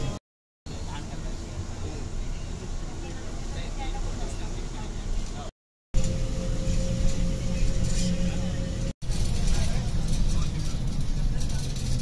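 An MSRTC state transport bus running from Dapoli toward Kolhapur, a steady engine drone and road rumble heard from inside the cabin throughout, with a few short dropouts and a voice talking over it.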